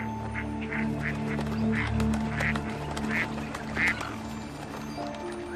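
A duck quacks about six times in a loose, regular rhythm, moderately close, over a steady low background hum.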